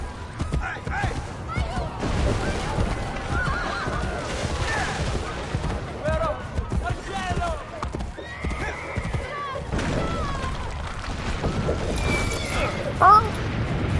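Horse neighing and whinnying in Assassin's Creed Brotherhood, with clip-clop hoofbeats and game noise running steadily throughout, loud and close, under a person's voice.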